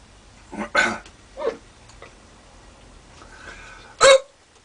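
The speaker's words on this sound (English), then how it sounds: "got some hiccups" Hiccups from someone who has just eaten a 2013 Carolina Reaper chili pod: a few sharp, loud, close hiccups spaced irregularly, with quiet pauses in between.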